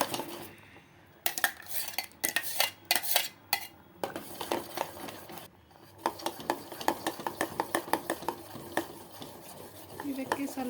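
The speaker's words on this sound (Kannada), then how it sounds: "ಇದನ್ನು ಕಸ್ಟರ್ಡ್ ಪೌಡ್ರದ್ದು ಹಾಲಿನಲ್ಲಿ ಹಾಕಿ ಮಿಕ್ಸ್ ಮಾಡಿತ್ತಲ್ವ ಅದರಲ್ಲಿ ಹಾಕಿ ಮಿಕ್ಸ್ ಮಾಡೋಣ" A spoon stirs mango and cardamom puree into custard milk for mango kulfi, making irregular bursts of scraping and clinking against the vessel, close and fairly busy, with short pauses between flurries.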